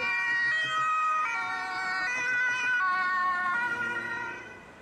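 A toy ambulance siren wailing continuously in a shifting electronic tone, loud and close, with no one speaking.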